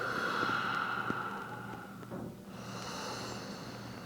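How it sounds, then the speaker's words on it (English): Slow, deep breaths during a hip and core yoga session, a steady close airy inhale and exhale with a soft snort-like onset, alone without talk. "we'll just take some deep grounding breaths here"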